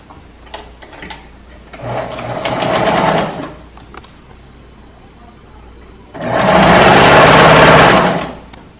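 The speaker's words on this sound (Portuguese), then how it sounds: "E aí vou costurar para ver como que vai ficar o ponto." A home sewing machine with a thread problem stitches in two bursts, a shorter run then a longer, louder one, with quiet pauses between and faint handling clicks.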